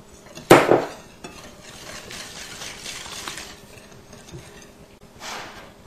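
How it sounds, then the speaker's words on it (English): Whole eggs are whisked into milk in a bowl, opening with a sharp clatter of the whisk against the bowl, then a softer rhythmic swishing and a final short burst of whisking. "I'll whisk in 3 whole eggs."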